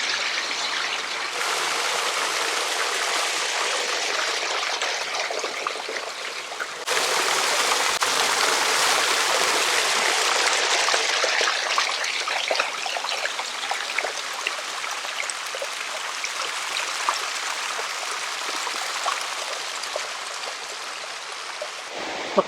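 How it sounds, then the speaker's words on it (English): Steady rushing and splashing of a small waterfall in a canyon at Matthiessen State Park, Illinois, continuous and fairly close, with no voices. "A waterfall there."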